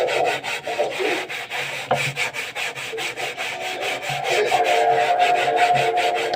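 A blackened wok is scrubbed clean without steel wool, giving a steady rapid back-and-forth rubbing and scraping rhythm, close and fairly loud, with a few knocks of the pan and no talking.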